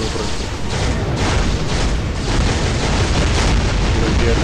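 Loud, dense explosions from the Marvel Future Fight mobile game during a tier-3 Hulk fight, a continuous rumbling barrage with bursts overlapping one another and no clear gaps.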